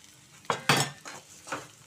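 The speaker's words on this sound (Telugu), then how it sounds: "ఇప్పుడు మనం వేయించి పెట్టుకున్న పల్లీలు కూడా దీనిలో వేసేసుకుందాం" Roasted peanuts are tipped into okra frying in a pan and stirred, giving a few sharp metallic scrapes and clinks of a spoon over a faint sizzle, close and quiet, with no talking.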